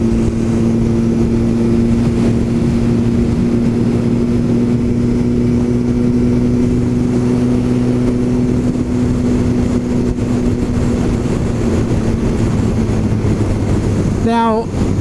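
A motorcycle engine drones steadily throughout while riding and downshifting as it slows near the top of a hill, loud and continuous with a brief pitch sweep at the very end.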